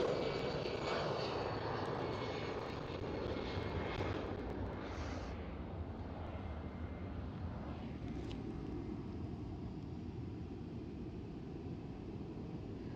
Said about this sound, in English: it's EasyJet A320. And positive rate, guys, gear up.